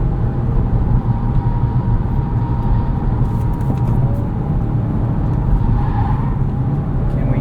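A 2023 Acura Integra with a manual gearbox accelerates hard in sport mode, its engine droning loud and steady while Continental tires squeal and complain, the noise heard from inside the cabin and held throughout.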